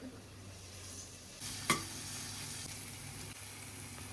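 Mint leaves sautéing in a pan for mushroom brinji rice, a quiet steady sizzle with one sharp stirring clink, close and without talk.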